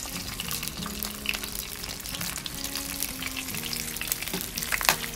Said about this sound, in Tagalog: Prito lang tayo